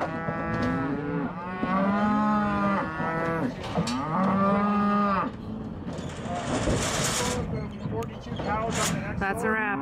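Several cattle moo loudly and repeatedly, deep drawn-out calls overlapping one another, with some clattering in the background.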